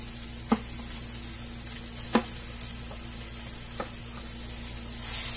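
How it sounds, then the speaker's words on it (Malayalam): Onions and ginger garlic paste sauté in a pan, giving a steady soft sizzle with a few sharp clicks of stirring, close by and with no talk. "ഇഞ്ചി വെളുത്തുള്ളി പേസ്റ്റിന്റെ പച്ച മണം മാറുന്ന വരെ നമുക്കിതൊന്ന് സോട്ട് ചെയ്തെടുക്കണം"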